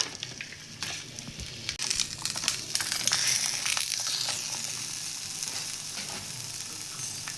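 An aloo paratha frying in oil on a hot pan gives a steady, close sizzle with crackling bursts and scraping stirs, growing denser midway and holding without talk.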